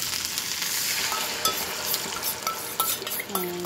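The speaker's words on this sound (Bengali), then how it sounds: "আমি একটু আদা বাটা দিলাম, ভালো করে আদাটা একটুখানি ওর সাথে তেলের সাথে মিশিয়ে নিচ্ছি ভালো করে" Ginger paste being stirred into hot oil for an eggplant dish gives a steady, close sizzle, broken by brisk scraping clicks of the spoon against the pan.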